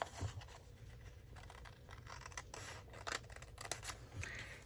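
Scissors snipping across paper in a pumpkin-themed journal spread, a steady run of close, crisp cuts with brief rustles, no talking.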